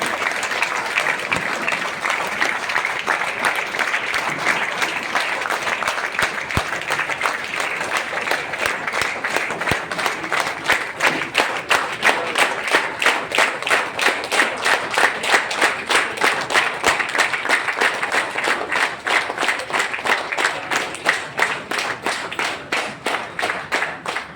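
A large crowd at a business team event welcomes its host leader with loud, sustained clapping that settles into a strong rhythmic unison beat, continuing for over twenty seconds without talk.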